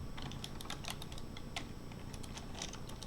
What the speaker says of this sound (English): holding Alt and typing in